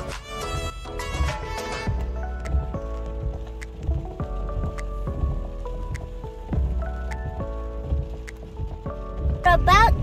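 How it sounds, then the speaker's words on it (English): Heavy rain drumming on a car while stopped at a traffic light, a dense patter of drops and drips close by, with people talking and background sounds over it. "There's a lot of rain here. You guys might hear it because this rain is super loud."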